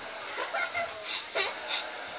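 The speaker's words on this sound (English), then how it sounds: "all we can hear in this video is that Hoover going on" A Hoover vacuum cleaner runs in the background, giving a steady, airy whir with brief giggles and faint voices over it.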